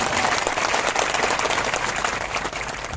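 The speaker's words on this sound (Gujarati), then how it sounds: "જોરદાર તાળી પાડે" Enthusiastic applause from a village gathering's audience honouring a local elder, dense steady clapping filling the whole stretch at full loudness with no talk over it.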